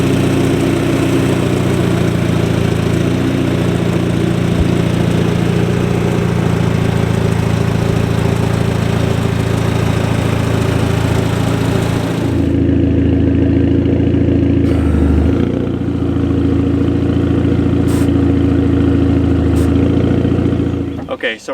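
A 2009 Audi TT engine runs steadily at idle, a loud, close, continuous hum with low rumble that shifts in tone partway through before cutting off at the end.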